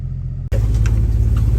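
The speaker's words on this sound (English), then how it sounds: "I'm gonna turn this thing around, put it in four-wheel drive, and we'll try to get out of here." An off-road vehicle idling and turning around in four-wheel drive on a creek trail. A steady, loud, close engine rumble starts abruptly after a brief quieter stretch, with no talking.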